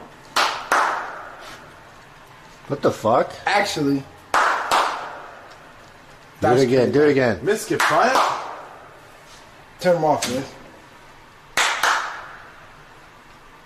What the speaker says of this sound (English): Stop clapping like a little pussy and clap like a man.